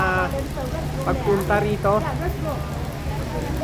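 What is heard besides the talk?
rain falling outdoors in Hong Kong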